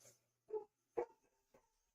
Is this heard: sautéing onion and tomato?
no